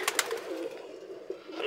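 Pigeons cooing nearby, a low steady murmur with a couple of brief flutters or clicks at the start.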